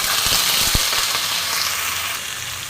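Tomato, ginger and black pepper paste, blended with a little water, hitting a hot pan with a loud, close sizzle that starts with a sharp burst and settles into a steady hiss, with faint stirring clatter.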